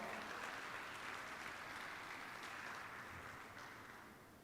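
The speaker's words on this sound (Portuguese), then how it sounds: "Glorifica aí o Senhor com as suas palmas" A church congregation claps in praise during a service, a dense, continuous wash of applause that holds steady and then slowly fades toward the end, heard quietly as if from a distance.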